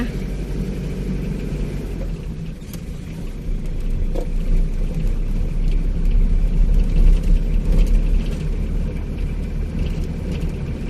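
A motorbike ridden along a rural road, a steady low engine rumble and wind noise that swells in the middle, close and continuous, with a faint bit of talk underneath.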